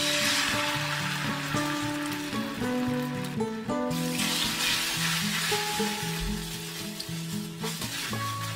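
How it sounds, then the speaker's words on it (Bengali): Beaten egg poured into hot mustard oil in a wok sizzles and fries steadily throughout, close and even, with background music playing underneath. "এবারে কড়াইতে অল্প একটু সর্ষের তেল গরম করে নিয়ে ফেটানো ডিমটা ঢেলে দিলাম।"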